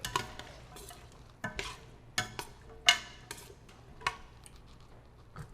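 Onions and greens being stirred in a cooking pot, with a spoon giving a handful of irregular scrapes and light clinks against the pot over a quiet background.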